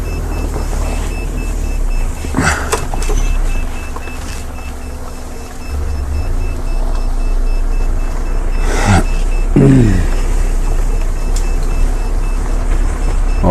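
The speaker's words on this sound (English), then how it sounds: "a battery alarm, I think." A battery alarm goes off in a safari vehicle, a continuous tone sitting over a low engine rumble, broken by a couple of sharp rattling bursts.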